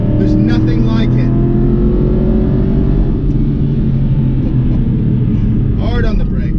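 An Aston Martin Vantage engine rumbles and pulls hard under acceleration on the road, loud and close, its rising tone sweeping upward with faint wind noise mixed in.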